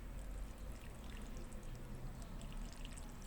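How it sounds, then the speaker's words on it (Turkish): Water pours steadily over the roots of a crassula plant being repotted, a continuous soft splashing trickle that lasts throughout at low level, with no talking. "Şöyle biraz ıslatacağım bunu."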